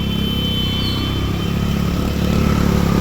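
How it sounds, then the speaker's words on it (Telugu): A motorbike engine revs hard and steadily through a flooded street in Ameerpet during heavy rain, a loud close drone with mechanical clatter that swells toward the end. "రేజ్ ఇచ్చుకుంటానే వెళ్ళు, లేదంటే ఆగిపోతుంది"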